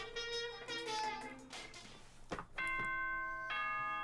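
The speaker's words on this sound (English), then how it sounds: "Ding dong, ding dong." A ding-dong chime from Danganronpa rings out as a clear, bright tonal chime in two sustained tone groups, with no talk over it.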